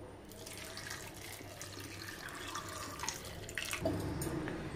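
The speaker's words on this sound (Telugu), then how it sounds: "ఇందులో వాటర్ యాడ్ చేసుకోవాలి." Water runs from a tap and is poured into a pot for a pressure cooker in a village kitchen, a quiet steady trickle that swells into a fuller gush near the end, with no talking.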